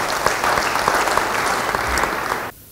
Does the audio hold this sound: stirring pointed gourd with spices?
no